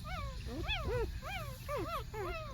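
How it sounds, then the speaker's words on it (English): Several young puppies whimper and yip together in a litter, a busy overlapping chorus of high, rising and falling whines and squeaks, close and fairly loud. "But got a lot of pretty puppies in here."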